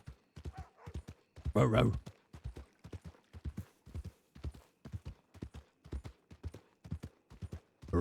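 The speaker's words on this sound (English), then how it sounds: "Clip clop, clip clop." Horse hooves clip-clop in a steady rhythm in Red Dead Redemption 2, running under near-continuous talk.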